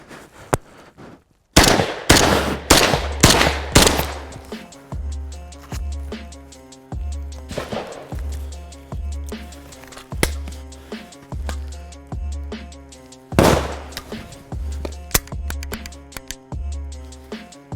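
Rapid handgun shots fired while practicing shooting around corners in a street-combat drill, sharp reports coming in quick bursts and irregular strings, close and loud with no talking.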